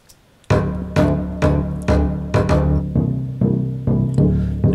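A pop bass part with its high end rolled off by EQ plays a row of evenly spaced, punchy low notes, each decaying before the next in a steady rhythm, with no voices.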